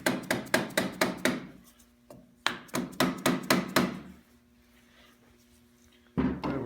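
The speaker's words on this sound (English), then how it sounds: "that's what I have the dead blow hammer here for" A dead blow hammer taps a KTM 250/300 two-stroke motorcycle engine part during a top end rebuild, giving two quick bursts of sharp, evenly spaced knocks, then one last hit after a quiet pause.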